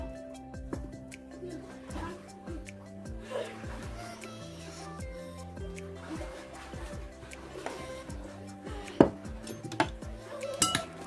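Ingredients for a homemade Caesar salad, seasoned with cumin and salt, are stirred in a bowl, giving irregular clinks and scrapes of a utensil against the dish. Light background music plays underneath.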